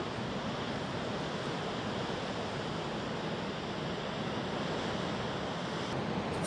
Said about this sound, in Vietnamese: chúng ta chỉ nghe thấy được những cái tiếng sóng